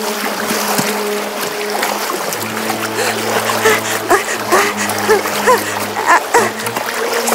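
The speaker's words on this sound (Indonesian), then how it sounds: "dia melompat ke air dan berenang mengejar mereka." Someone jumps into water and swims: choppy splashing and sloshing water with intermittent bursts and wave-like washes, moderately loud and close, over a low continuous hum.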